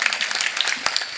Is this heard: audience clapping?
yes